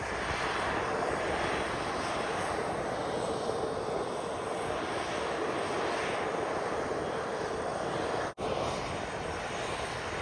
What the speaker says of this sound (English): Join the ground staff in the final steps before takeoff as they ensure a smooth departure for N30DJ private jet.